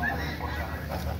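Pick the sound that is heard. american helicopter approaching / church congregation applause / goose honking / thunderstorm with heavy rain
goose honking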